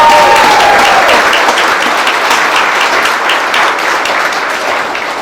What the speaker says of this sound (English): I want to give you a round of applause from me.